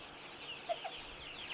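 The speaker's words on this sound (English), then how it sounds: "We're inside of our brooder, and this is where we raise all of our little baby chicks and ducklings on the farm." Chickens in a farm brooder where baby chicks and ducklings are raised, giving a couple of short, faint clucks over a quiet background.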